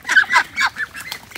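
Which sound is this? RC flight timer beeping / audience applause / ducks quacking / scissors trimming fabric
ducks quacking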